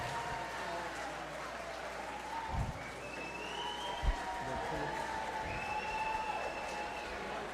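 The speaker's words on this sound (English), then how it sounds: "Big round of applause." Applause from the audience at a 2023 Long Beach Mardi Gras ball, fairly distant and soft, a steady patter of many hands with a few scattered whoops and faint voices mixed in.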